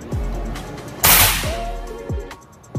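A single muffled shot with a sharp crack from a suppressed Marlin 1894 tactical lever-action rifle, followed by faint mechanical clicks of the lever being cycled.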